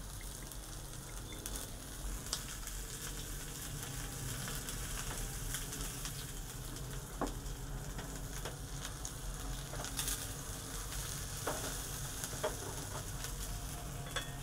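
Onion sautéing in a pan gives a soft, steady sizzle with scattered scrapes and taps of a spatula, close but fairly quiet and unbroken, with no voices.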